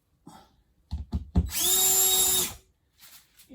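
A power drill drives drywall screws into a ceiling panel in one loud, steady whirring burst of about a second, preceded by a few soft knocks and handling thumps.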